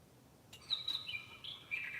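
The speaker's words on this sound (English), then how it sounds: "I hear you, bird." A single bird calls in a few clear, high whistled chirps, moderately near, over a quiet indoor room with no talking.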